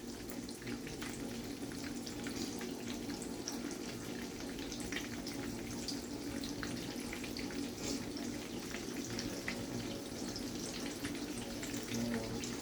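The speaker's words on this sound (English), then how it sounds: "I'm placing it into my hot olive oil." Lightly breaded chicken in Italian seasoned breadcrumbs sizzles steadily in hot olive oil, a dense, even crackle that holds at one level throughout without a break.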